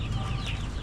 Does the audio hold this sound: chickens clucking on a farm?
yes